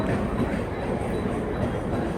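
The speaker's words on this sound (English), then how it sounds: "The train's now here." A Mumbai local train rumbles into a busy station, a dense, steady low roar of wheels and carriages, loud and close throughout the short moment.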